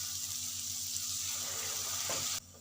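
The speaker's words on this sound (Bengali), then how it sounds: "এবার জল দিয়ে দেব।" Water pours into a pan of cooked-down masala for a rohu fish curry, a steady close hiss of pouring and bubbling that cuts off abruptly near the end.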